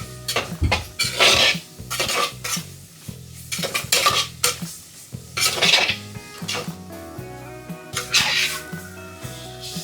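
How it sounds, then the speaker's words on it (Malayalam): Raw chicken is worked by hand with crushed chili in a bowl, giving intermittent wet squelches and knocks against the bowl in uneven bursts, with no talking. "നല്ലോണം മിക്സ് ചെയ്ത് വെക്കാം"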